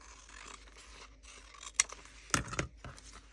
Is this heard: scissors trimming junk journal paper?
yes